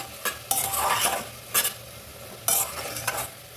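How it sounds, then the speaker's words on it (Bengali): Coriander powder, cumin powder and turmeric are stirred into a sizzling chicken stew, with several distinct scraping strokes of a spatula against the pan over a low background sizzle. "ভালো করে কষাবো"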